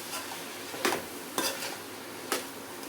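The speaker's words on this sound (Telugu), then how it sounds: "మొత్తం మసాలాలన్నీ వెజిటేబుల్స్కి కలిసేలాగా కలుపుకుందాం" Spices and vegetables are stirred in oil in a pan for mealmaker pulao, giving a soft steady sizzle broken by three sharp scraping strokes of a spoon against the pan, quiet and close.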